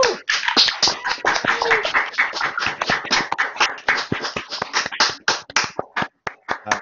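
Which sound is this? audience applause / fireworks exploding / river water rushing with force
audience applause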